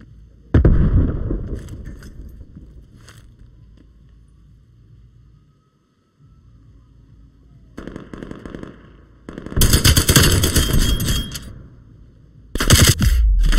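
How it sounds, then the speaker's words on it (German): An artillery barrage in the Call of Duty Black Ops Cold War multiplayer game lands in heavy, booming bursts, several loud blasts with rattling crackles separated by quieter gaps and distant rumble. "Artillerie entdeckt. Artilleriebeschuss."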